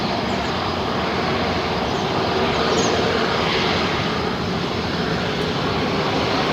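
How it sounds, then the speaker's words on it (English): A Qantas Airbus A330 arriving from Perth on short final at Melbourne Airport gives a loud, steady, broadband jet roar that fills the whole stretch, with no talk over it. "let's get the Qantas 330 on short final now. Coming in from Perth."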